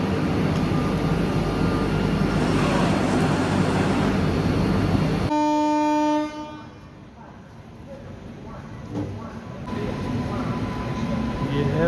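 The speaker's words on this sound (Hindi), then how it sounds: "ये है WAG-9 WAG-9 गुड्स लोकोमोटिव।" A WAG-9 electric goods locomotive rolls through an Indian railway station with a loud, steady rumble that cuts off abruptly, leaving quieter platform ambience with a tonal hum and a rising background murmur.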